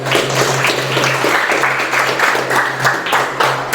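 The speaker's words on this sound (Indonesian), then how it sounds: "Abid, give applause to Abid." A classroom of students applauds one student, with steady, dense clapping close by and a low hum underneath.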